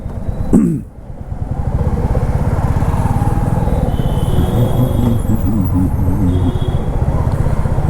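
Dense road traffic heard from a motorbike riding through Rewari, with a steady loud engine and road roar throughout, a brief horn-like chirp near the start and faint honks in the distance.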